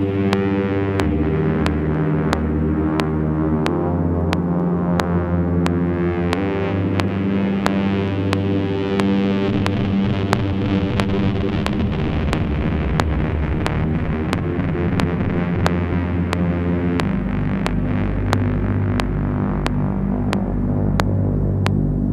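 A Blipblox After Dark synthesizer plays a sustained, droning phrase with rich harmonic tones and a steady, rhythmic ticking pulse running through it.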